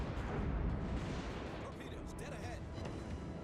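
Secondary guns on a cruiser firing in the World of Warships naval game, heard as dense, rumbling gunfire booms that overlap into a continuous low roar with no clear gaps.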